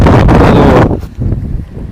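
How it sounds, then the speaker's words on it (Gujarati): Strong dust-storm wind buffeting the microphone outdoors near a neem tree, a loud roaring rumble for the first second that then drops to gusty, uneven bursts. "પવન એટલો છે કે અવાજ બરોબર નહીં આવતો હોય"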